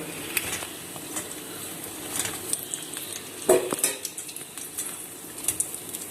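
Sukiyan dumplings frying in hot oil, a steady crackling sizzle with scattered clinks of a metal slotted spoon against the pan, moderately close, with no talking.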